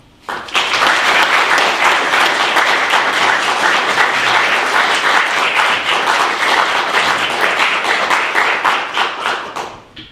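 A large audience bursts into loud, sustained applause to welcome Gary Younge to the stage, dense clapping that holds steady for about nine seconds before tapering off.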